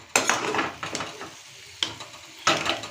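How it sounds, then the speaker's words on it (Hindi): Rice and vegetables tipped into a pressure cooker in a home kitchen, three loud clattering pours with rattling and scraping against the metal pot, close by. "तब हमने चावल और सब्जी ला दोनों ला एक साथ हम कुकर में डाल डाले हैं"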